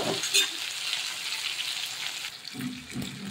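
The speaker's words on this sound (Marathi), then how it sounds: "टोमॅटो बघा आता असा छान आपला तेलामध्ये फ्राय झालेला आहे" Tomato pieces fry in hot oil in a pan, giving a steady close sizzle with light stirring noises.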